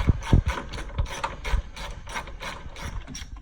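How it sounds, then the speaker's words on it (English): A ratchet with a 10 mm deep socket loosening the battery hold-down bar on a 2016 Toyota Corolla, giving a series of quick, close clicking bursts in an uneven rhythm. "Here's a ratchet here with a 10 millimeter deep socket"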